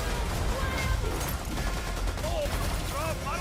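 Bursts of gunfire from an action movie rattle out in rapid succession amid a busy, loud soundtrack, with voices shouting over the shots.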